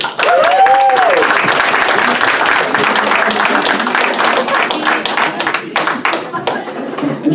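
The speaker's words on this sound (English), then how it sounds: "I think they deserve a round of applause." Applause from an audience at a Nurses Week gathering, a dense burst of clapping that stays loud and steady throughout, with scattered voices mixed in early on.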